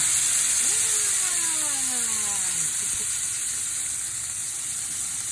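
Seafood hits a hot pan of butter and olive oil, giving a steady bright sizzle throughout, loud and close, with a faint rising engine-like whine briefly in the background.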